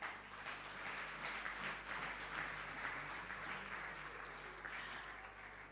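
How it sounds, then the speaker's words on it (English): A large audience gives a sustained round of applause at an awards event honouring food maker Dufil Prima Foods, the dense clapping steady and loud throughout with no voices over it. "a resounding round of applause"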